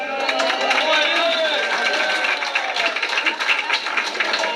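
A crowd cheers and calls out for a duckpin bowler at Town Hall Lanes during a 1992 DPBA match, a steady, fairly loud wash of voices and whoops that holds for several seconds.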